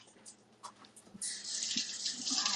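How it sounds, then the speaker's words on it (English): Tap water runs into a kitchen sink while a hand is rinsed clean of egg during cheesecake prep, starting softly and then swelling into a steady, close hiss that continues to the end. "Rinse my hand off because I always get eggs on it."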